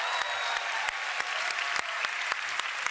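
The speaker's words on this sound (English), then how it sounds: "Give a round of applause for Chocobos." A steady burst of audience applause, dense and even with sharp individual claps poking through, holding at a constant level for the whole stretch with no talking.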